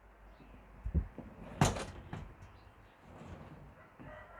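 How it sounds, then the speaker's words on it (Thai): A door being closed indoors at home, with a couple of soft bumps followed by one sharp, fairly close thud and a quieter knock after, over a low room hum. "ขอโทษนะคะ ปิดประตูแป๊บหนึ่ง"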